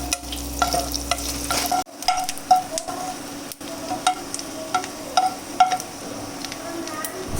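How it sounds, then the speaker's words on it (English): Coconut and cashew pieces sauteing in ghee in a pan, a steady soft sizzle with repeated scraping and stirring strokes and small clinks of a spoon against the metal. "So our cashews are being sauteed now."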